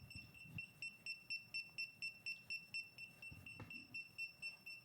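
A small Bluetooth item tracker emits a rapid series of high, regular beeps, evenly pulsed and fairly quiet, continuing steadily with no talking.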